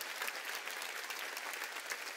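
Congregation applauding at a Wednesday church worship service, a steady, dense wash of clapping hands filling the room for a couple of seconds without speech.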